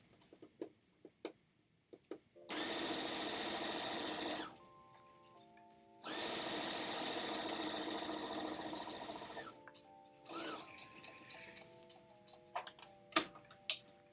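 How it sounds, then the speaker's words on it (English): Sewing machine running in two long sustained bursts of top stitching along drawstring backpack seams, steady mechanical whir with brief ticking pauses between runs, no talking. "we are going to just sew them flat with a top stitch"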